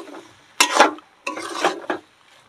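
Mutton ghugni with peas and potato is stirred and fried in a pan, giving two close bursts of scraping, sizzling stirring separated by short quiet gaps.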